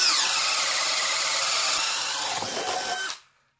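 A DeWalt DCD996 cordless drill whines steadily as it drives an auger bit into wood, loud and close, then cuts off abruptly at the end.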